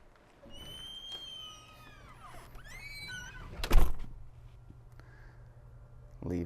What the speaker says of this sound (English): So now I'm going to go out another door